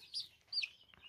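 A young chicken gives two short, high calls in quick succession, close and fairly faint.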